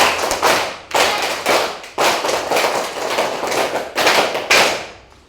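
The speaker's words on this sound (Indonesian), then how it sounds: "Tepuk pramuka tambah 2 kali." A group of students performs the Indonesian scout clap pattern, tepuk pramuka, with two extra claps, loud and close. Sharp unison claps come in rhythmic bursts separated by brief gaps, with no talking.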